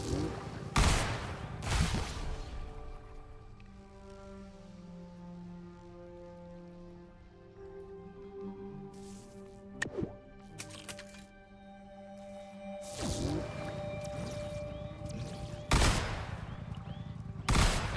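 A vehicle-mounted turret in Trailmakers fires bursts with heavy recoil, loud cracking volleys at the start and again near the end, with a sustained humming tone between them.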